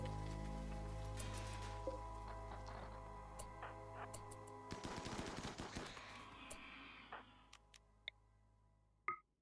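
Ranged colonists in RimWorld firing their guns: bursts of quick, crisp pops and ticks scattered over a faint humming game backdrop, with a denser cluster midway and a few isolated louder shots near the end, fairly quiet overall.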